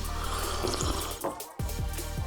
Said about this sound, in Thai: ใส่ลงไปในถ้วยก้นลึก แล้วเทน้ำเดือดๆลงไป